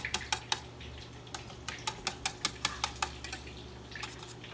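Homemade katsu sauce of ketchup and soy sauce being stirred in a dish, a series of quick utensil clinks and scrapes against the bowl in irregular bursts over a low steady hum, close and fairly quiet.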